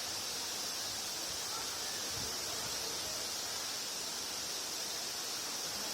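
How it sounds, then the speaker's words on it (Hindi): A waterfall pours in a steady, dense broadband rush that holds unchanged throughout, loud and close with no voices. "बहुत ही सुंदर वाटरफॉल।"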